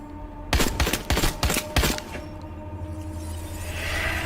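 A burst of rapid gunfire rings out in a Resident Evil Village reveal trailer scene where Chris shoots Mia, about six sharp, loud shots in quick succession followed by a fading ambient hum.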